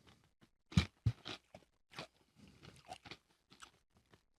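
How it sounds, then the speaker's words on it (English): Crunchy chips are chewed close to the microphone, with several loud, sharp crunches early on followed by softer, irregular bites and munching, and no clear speech. "You're going to hear us crunch all episode."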